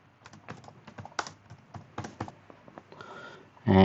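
Rapid keystrokes clatter on a computer keyboard, an uneven run of close, crisp taps with brief pauses, ending in a louder burst of several keys pressed together.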